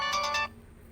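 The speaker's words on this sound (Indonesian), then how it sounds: "ini ada telepon dari saudara saya, Samsul" A phone ringtone for an incoming call trills in three quick bursts during the first half-second, then cuts off into faint room quiet.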